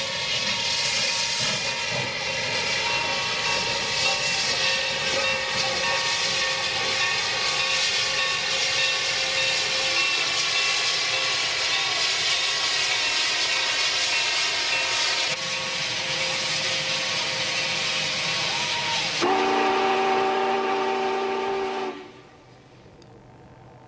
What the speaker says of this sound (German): Nach diesem rasanten Endspurt läuft unser Zug am Abend wieder im UP-Bahnhof von Salt Lake City ein.